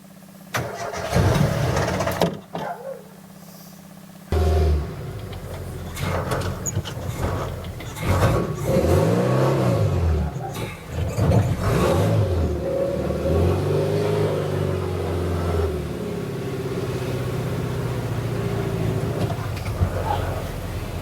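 A car engine cranks and catches, then revs up and down in several surges before settling, loud and close, with people talking over it at times.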